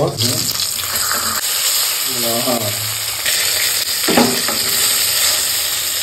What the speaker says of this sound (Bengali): প্রথমে আমি তেল দিয়ে মাছটা ভাজি করে নিব।